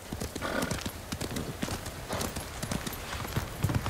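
Horse hooves clip-clop at a steady gallop in the samurai video game Ghost of Tsushima, loud and close, with a whinny partway through and no speech over it.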